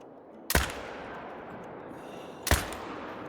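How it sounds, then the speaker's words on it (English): Two rifle shots from a .308 while hunting pronghorn in Call of the Wild, each a sharp, loud crack followed by a rolling echo that fades, the pair spaced about two seconds apart over a steady outdoor ambience. "let's see if we can take a nice shot here with the 308"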